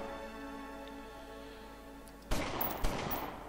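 Gunfire in the gangster strategy game Omerta: City of Gangsters: two sharp, loud shots cut in over steady background music, the second following about half a second after the first.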